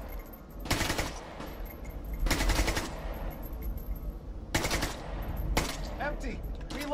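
Bursts of automatic gunfire in the Caliber video game, several separate volleys of rapid shots at steady loudness over a constant background hum.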